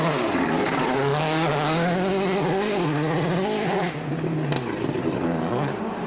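Loeb's rally car on a loose gravel stage in the 2009 WRC Cyprus rally, engine loud and close, revving and shifting through gears with gravel noise throughout, no voices.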